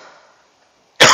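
A single loud, harsh cough bursts in abruptly after a stretch of near silence with faint background murmur.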